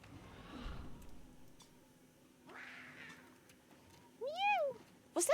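A cat meows a few times, the calls rising and falling and growing louder toward the end, with a faint steady hum in the background and no talking.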